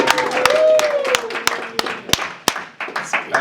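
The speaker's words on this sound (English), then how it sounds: "Round of applause" Scattered applause greets boxer Leigh Wood at a post-fight press conference, with a modest group clapping in irregular bursts that thin out toward the end while voices talk underneath.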